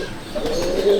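Male Andhra pigeons in a loft give a soft, close coo that rises over a dense background hiss of the flock.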